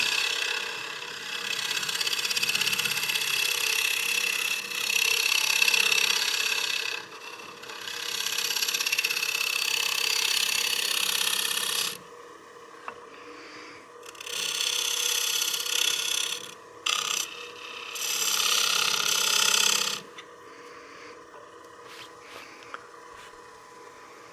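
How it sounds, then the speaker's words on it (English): Lathe tool cuts a wood tenon and recess while turning a cake stand, a scraping, hissing cut in several bursts of a few seconds each, separated by quieter spinning pauses, with no talking. "Just truing up the inside edge of that tenon, or the recess"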